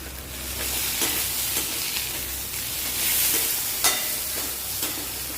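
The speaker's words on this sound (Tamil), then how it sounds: "எண்ணெய் ஊற்றிட்டேன் இந்தளவு வறுத்த போதும் நல்லா வதக்கிட்டேன்" Jackfruit seeds sauté in hot oil in a pan, producing a steady close sizzle with occasional louder crackles and stirring scrapes, continuous with no voices.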